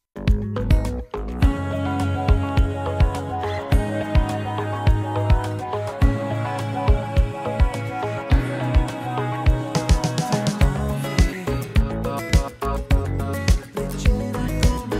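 Electric guitar in a pop mix, treated with a left-right stereo movement effect, plays a dense, rhythmic part with regular strummed accents over a full band backing, loud and steady throughout with no talk.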